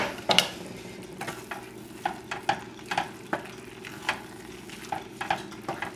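Basil and parsley stirred into a hot pan of long grain brown rice and lentils, giving a steady low sizzle broken by a string of sharp spoon-on-pan scrapes and clicks, close and fairly quiet, with no talking.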